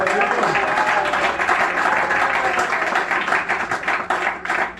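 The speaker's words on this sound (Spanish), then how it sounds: "Denle un fuerte aplauso a Jesús" A church congregation at an evangelical Spanish-language sermon breaks into loud, sustained applause, a dense wash of clapping and cheering that fills the room without letup for about five seconds.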